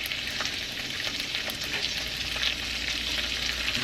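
Green beans sautéing in a pan with a splash of soy sauce, giving a steady close sizzle with faint stirring clicks throughout and no talking.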